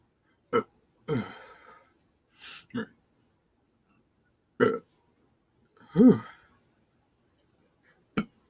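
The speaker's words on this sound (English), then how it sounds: "1 second, got a burp" Several short, croaky burps in a row, separated by pauses, close to the mic in an otherwise quiet room.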